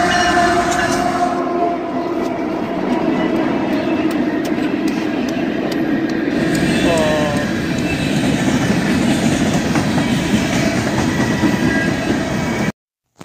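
A freight train led by an SD70MAC and an ex-Conrail SD40-2 rolls past close by, with a loud continuous rumble of engines and wheels and the clatter of cars, which fades out abruptly at the end.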